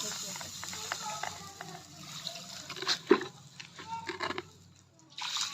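Water poured onto a small fire lit for warmth on a cold night, giving splashing, trickling and hissing bursts that come and go, with voices talking nearby.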